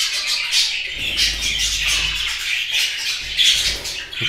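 Pet birds squawk in a cluster of harsh, overlapping calls, fairly close and loud, repeating irregularly over a low background rumble.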